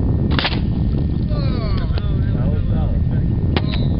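A homemade water rocket launches outdoors with a sharp pop and rushing whoosh, followed later by two more brief bangs, while a person talks in between.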